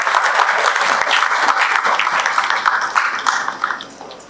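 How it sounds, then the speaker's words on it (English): Applause from the audience at a symposium on artificial intelligence in India, a loud burst of many hands clapping that holds steady and then tapers off toward the end. "Let's have a huge round of applause for him."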